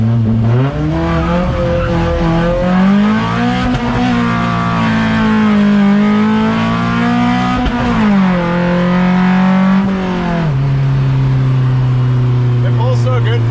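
Non-turbo car accelerating hard while street drifting, a loud, close engine note rising and shifting pitch steadily throughout, with tire squeal mixed in and no talk over it.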